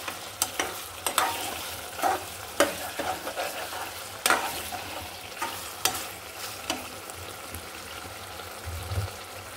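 Meat being sautéed kosha-style in a pan, a soft frying sizzle punctuated by repeated sharp scrapes and clacks of a spatula stirring at an uneven rhythm, close by and moderately quiet.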